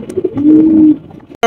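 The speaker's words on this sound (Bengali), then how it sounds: "রয়েছে আরো এক জোড়া শোকিং কবুতর" Pigeons of a large show breed in a pet market give a single near, loud, low throaty coo lasting about half a second, followed by a brief sharp noise at the end.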